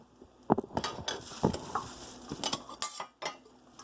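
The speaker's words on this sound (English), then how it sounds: "Just mix them a little bit." Chicken larb being tossed together with fresh vegetables and herbs for a Lao dish, giving soft, irregular stirring and clinking sounds of ingredients and utensils against a bowl, close up with no talking.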